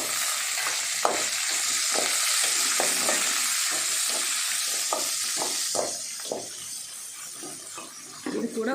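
Sliced onion sizzles steadily in hot oil with chana dal and curry leaves, close and loud, with a utensil stirring and scraping through the pan in short repeated strokes.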